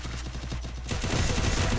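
Gunfire in the video game Free Fire comes as a rapid burst of shots, loud and dense, growing heavier midway through the short stretch with no talking over it.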